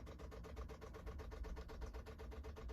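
A Gearlasso 8kW diesel heater's fuel pump ticks steadily while priming, a faint, regular rapid pulsing over a low background hum, with no talk.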